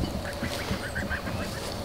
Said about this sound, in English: Leeske, those geese are supposed to be here